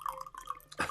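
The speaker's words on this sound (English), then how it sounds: "I pour myself another little cup of tea here out of the thermos" Tea pours from a thermos into a small cup, a short, quiet liquid trickle with gurgling tones that ends in a brief splash.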